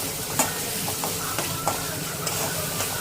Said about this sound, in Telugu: జీలకర్ర, ఫైన్గా చాప్ చేసుకున్న ఆనియన్స్, వీటిని బాగా కలుపుకోవాలండి.